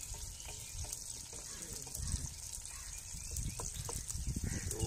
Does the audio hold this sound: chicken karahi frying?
yes